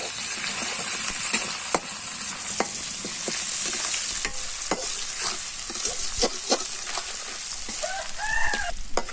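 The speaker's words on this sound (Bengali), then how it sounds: "শাকগুলোকে ভালো করে নাড়িয়ে নেবে" Greens frying in a pan while being stirred, a steady close sizzle punctuated by repeated spatula clicks and scrapes, with a few brief tonal squeaks near the end and no speech.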